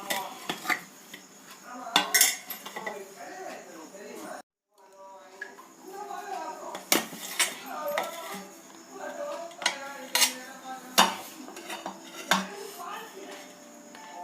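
A knife taps and scrapes against a plate while a rava cake is cut, giving sharp metallic clinks and scraping strokes in an irregular rhythm, with a person talking through it.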